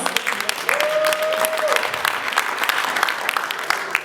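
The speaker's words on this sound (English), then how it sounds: "So I want you to give yourselves a round of applause." Conference audience of entrepreneurs applauding themselves, a dense sustained round of clapping from a crowd that continues evenly throughout, with a faint tone and light voices mixed in.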